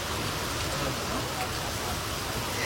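Steady rain falls throughout, a dense even hiss of drops on surfaces, fairly loud and unbroken from start to finish with no talk.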